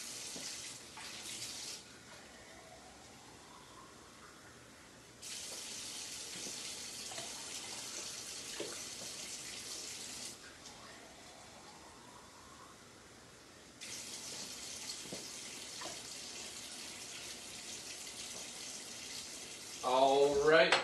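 Tap water runs in a sink to soak a Dollar Tree compressed towel, a steady broadband hiss coming in two longer bursts with quieter gaps, close and moderately loud, ending with a brief clatter.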